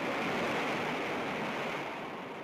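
Roaring wind and crashing high waves of a 1945 typhoon battering U.S. Pacific Fleet ships and carriers near Japan, a dense, loud, continuous wash of noise with no voices.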